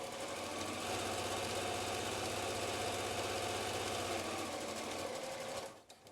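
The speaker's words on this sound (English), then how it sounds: "So I'm going to chain piece these, which means I'm just going to keep sewing." A domestic sewing machine runs steadily at speed, chain piecing fabric for an N95 mask cover, its close, even mechanical whir holding for several seconds before slowing at the end.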